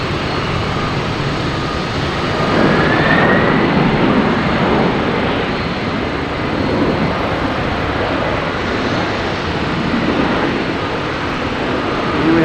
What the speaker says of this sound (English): I believe this is the FedEx 767 coming in from Memphis.